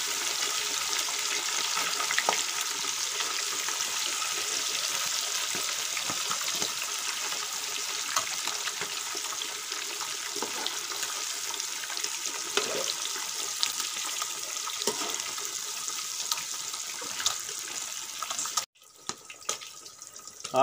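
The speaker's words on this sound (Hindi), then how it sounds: "अब दूसरे वाले पीस घी में डाल रहा हूँ, इनको भी उसी तरह फ्राई करूँगा।" Fish pieces frying in ghee in a kadai, a steady, loud, dense sizzle that hisses continuously before cutting off abruptly near the end.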